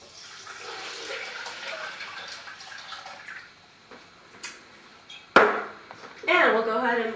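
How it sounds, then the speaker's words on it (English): Water pours in a gushing stream into a blender over sesame seeds, then thins to a trickle with a few knocks and clatters; someone speaks briefly near the end. "So we're going to go ahead and pour the water in."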